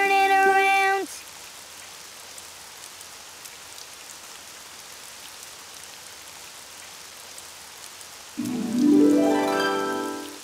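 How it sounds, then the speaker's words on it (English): Steady rain falling outside in a Portuguese-dubbed Daniel Tiger cartoon, a soft continuous hiss of rain running throughout, with short musical tones at the start and end. "Oh, it's raining outside."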